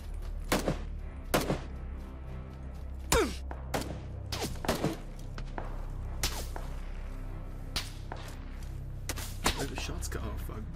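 Gunshots in the battle royale game PlayerUnknown's Battlegrounds, scattered sharp cracks at irregular intervals, some single and some in quick pairs, heard over a steady low background with voices talking.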